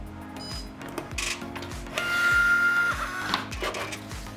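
A receipt printer powering up with the feed key held to run its test print gives a rapid train of mechanical ticks and a rhythmic, chattering print-head clatter with a brief high whine, close and fairly loud, no voices.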